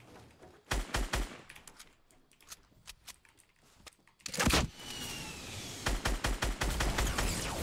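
Gunfire in the Fortnite battle royale game: clustered bursts of rapid shots early, a heavy blast midway, then a loud sustained volley near the end, with no talking.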